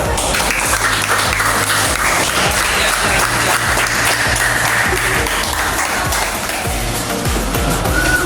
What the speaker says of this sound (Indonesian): Kita kasih aplaus semuanya.